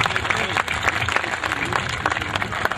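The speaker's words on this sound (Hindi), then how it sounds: "एक बार भरपूर तालियों के साथ उन्हें आमंत्रित करें।" Applause from an audience at a kavi sammelan honoring the martyrs of 1857, welcoming a poet to the stage; steady, dense clapping for the whole stretch, with some crowd murmur mixed in.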